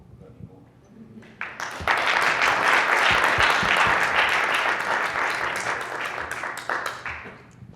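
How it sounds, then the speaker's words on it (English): A live audience breaks into sustained, loud applause after a talk with dancers, dense clapping swelling within two seconds and holding steady for the rest of the stretch. "Please give another round of applause."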